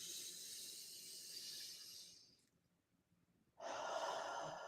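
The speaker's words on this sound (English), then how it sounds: "You can take a deep breath." A slow, deep breath is drawn in as a long, close airy rush, held in a brief near-silent pause, then released in a strong, steady exhale.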